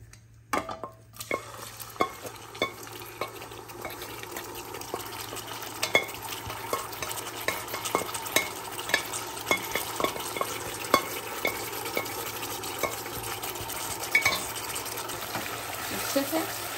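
Mutton pieces frying in about half a cup of hot oil in a pan for Hyderabadi green chilli fried gosht, a steady sizzle broken by frequent clicks and scrapes of stirring, close and fairly loud throughout.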